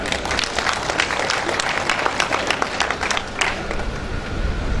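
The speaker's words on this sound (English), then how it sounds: "A round of applause for him." A crowd claps for several seconds, brisk scattered hand claps blending into lively applause at moderate distance.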